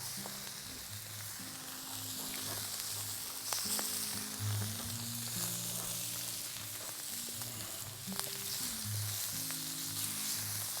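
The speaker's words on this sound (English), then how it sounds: "and a fantastic sizzle going down now." Scallops sizzle loudly in a hot pan with garlic, chilli and fatty minced-pork chorizo, a steady close crackle of frying fat running throughout with occasional stirring and a low hum underneath.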